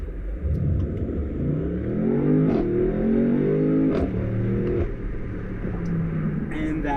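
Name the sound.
BMW M850i Cabriolet engine revving in Sport mode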